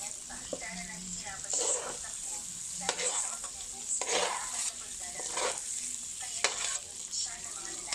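Garlic and onion hiss and crackle as they sauté in a pan, with a continuous sizzle, repeated spatula scrapes and light utensil clinks, and people talking over it.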